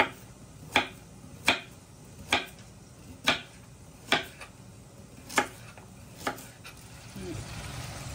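A knife chops through a vegetable into rounds on a cutting board while cooking a steak-and-vegetable dish, giving about nine sharp, evenly spaced cuts close by, with no voices and a soft sizzle near the end.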